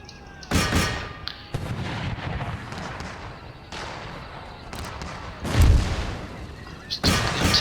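Artillery fire in Empire Total War, a series of heavy booming volleys spaced a second or two apart, loud and rumbling over a busy battlefield backdrop.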